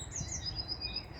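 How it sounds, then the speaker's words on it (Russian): Small birds chirp outdoors at a countryside dacha, thin high tweets repeating over a low steady rumble, faint and some distance away. "Птички тоже, наверное, погоду обсуждают."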